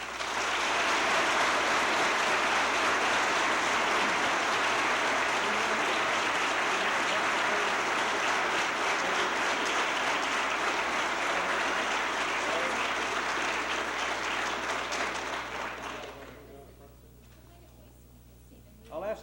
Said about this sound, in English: they were greeted by the applause of a packed house.